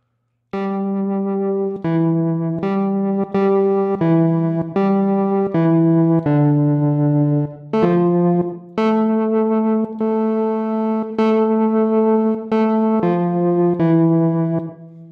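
A synthesizer plays a series of sustained chords with a buzzy, band-pass-filtered timbre, each held briefly before changing, clear and fairly loud.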